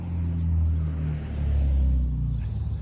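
Road traffic rumbles past a garden, low engine drone swelling and fading as vehicles pass nearby, with no talking.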